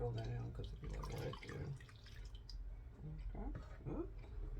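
Water pours into a bottle with splashing, trickling and dripping, while people talk nearby over the running liquid.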